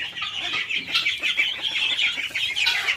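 Several chickens cluck continuously and close by at a farmyard poultry pen, their busy overlapping calls forming a steady chatter with no talking.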